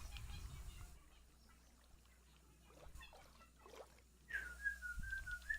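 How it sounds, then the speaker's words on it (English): A pet bird gives a clear, warbling whistle near the end, faint and in the background behind low indoor noise and scattered small sounds. "How do you like my bird's noise in the background?"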